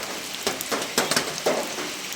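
Heavy rain in a hill-tribe village, a steady hiss of drops hitting surfaces with a few louder spattering bursts, close and continuous, with no voices.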